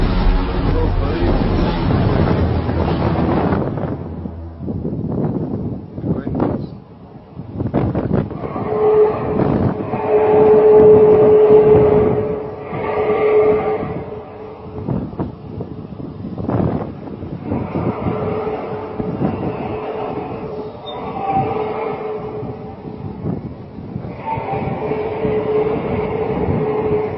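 Industrial noise from the ammonia factories at Brega, Libya, heard early in the morning: a loud broad rumble that cuts off, then uneven swelling mechanical drones and a steady tonal hum, with people talking at times.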